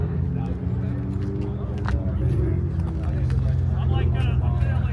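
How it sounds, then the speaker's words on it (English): A Ferrari rolls in at a Supercar Sunday car meet at Pierce College, its engine a steady low rumble throughout. Crowd noise and a nearby voice talk over it. "Oh, the Ferrari rolling in right there."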